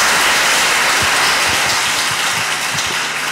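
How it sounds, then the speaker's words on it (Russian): An audience claps steadily at the close of a public lecture by a Russian senator, a dense, even wash of applause filling the hall, loud and sustained without pause. "Спасибо за аплодисменты"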